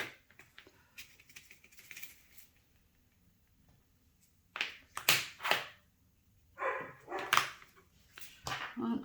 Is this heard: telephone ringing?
no